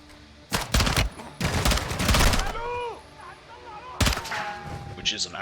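Kastov 7.4U rifle fire in the video game Modern Warfare 2: loud, close bursts of rapid automatic shots in two long volleys, then a later burst, with game voices and effects between them.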